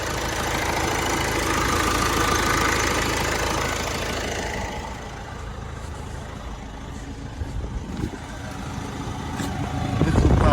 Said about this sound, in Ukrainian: двигун рівненько працює, гарненько